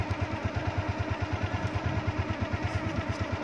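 A habal-habal motorcycle taxi being ridden, its engine putting out a rapid, even low thrum with a faint clatter, steady and fairly quiet.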